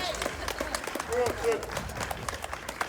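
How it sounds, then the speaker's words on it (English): Crowd applause at an outdoor public rally as a speaker is invited up: steady scattered clapping, fairly near, mixed with people talking. "everyone give a round of applause for Sydney Jones"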